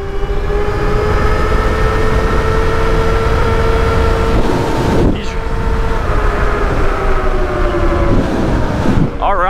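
An Altis Sigma 98-volt prototype electric motorcycle accelerates hard from a standing start, a loud rising electric whine with steady tonal harmonics climbing over heavy wind and road roar, with voices briefly underneath.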